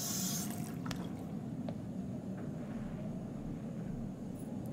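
Hot water runs steadily from a tap in a lodge bathroom in the game Until Dawn, a continuous close hiss of flowing water with a few faint drips and clinks over it.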